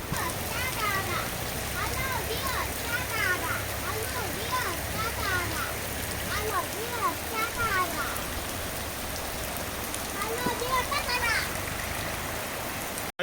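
A forest waterfall stream on Mahendragiri in Gajapati pours steadily throughout, a dense, rushing wash of water with birds chirping over it.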